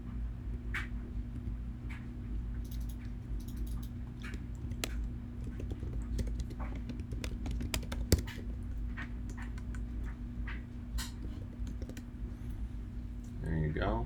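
Computer mouse clicks and keyboard typing while editing toddler slides in ProPresenter, a scatter of light taps and clicks over a steady low hum.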